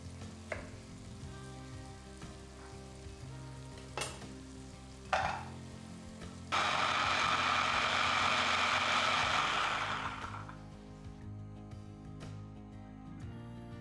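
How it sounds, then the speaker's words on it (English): A steady, loud sizzling hiss of onions frying in a pot rises suddenly and lasts a few seconds, then fades back to quieter kitchen clatter with a few sharp knocks. "While the onions are cooking"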